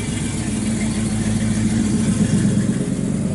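A 1973 Chevrolet Camaro Z28 with a recently installed engine idles close by, a steady deep throbbing rumble with an even lumpy pulse and no speech over it.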